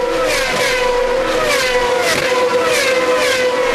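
Onboard a GP2 race car, the engine screams at high revs with rising and falling gear-change tones, loud and continuous from start to finish.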